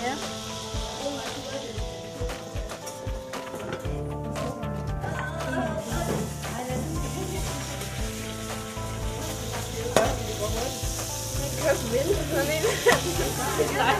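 Pork tenderloin sizzles and crackles steadily in a frying pan while being stirred, with scraping and utensil clatter, and people talk alongside in a kitchen.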